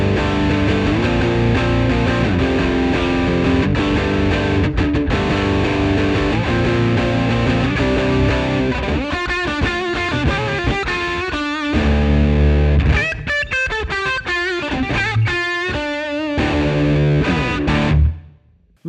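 A loud electric guitar through a Joyo Baatsin overdrive and distortion pedal plays sustained chords and then a choppier riff, with thick, saturated tone throughout before cutting off at the end.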